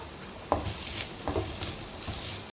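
Soya chunks frying in a pan with pepper powder and garam masala: a soft continuous sizzle broken by a few scraping stirs and a light clink of the spoon, close and fairly quiet.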